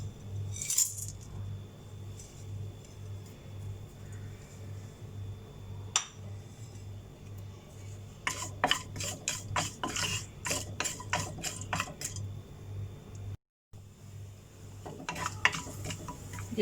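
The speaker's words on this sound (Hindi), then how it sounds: "ये गरम मसाला क्रैकल हो गया।" Whole garam masala spices (cumin, cardamom, cinnamon, cloves, black peppercorns and a bay leaf) crackling in hot oil, making bursts of sharp pops and ticks against a steady low hum of the stove.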